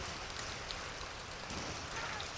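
Steady rain pouring down outdoors on a rural Thai farm, a dense continuous hiss of drops on surfaces that holds even and moderately loud throughout, with no voices.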